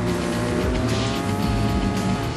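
Racing cars from a Hot Wheels cartoon roar loudly past with tires squealing and skidding, a dense continuous burst of engine and tire noise filling the whole moment.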